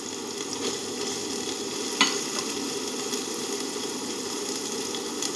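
Chopped green chillies sizzle as they are stir-fried with brinjal in hot oil, a steady close crackling fry with stirring scrapes and one sharp clatter, alone without speech.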